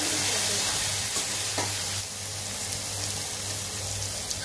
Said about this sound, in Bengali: ভালো করে মশলাটা ভাজবো।